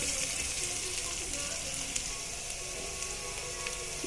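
Lentils fry in oil until golden, giving a dense, even sizzle that holds at the same level from start to finish, close and with no talk.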